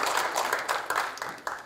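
Audience applause at a university anniversary commemoration ceremony, a short burst of moderately loud clapping with a few sharp individual claps standing out near the end.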